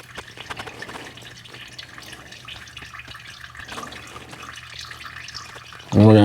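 Engine oil drains from a 2023 CanAm Maverick X3 into a pan, a steady trickling, dripping liquid stream heard close up for several seconds before a sudden louder burst at the end.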